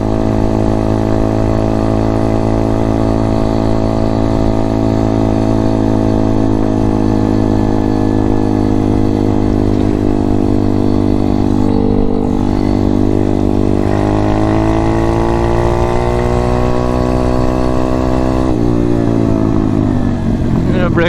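An M2R RF160 road legal pit bike engine runs under throttle while riding, a loud continuous buzzing drone whose pitch climbs and falls with gear changes, accompanied by wind noise.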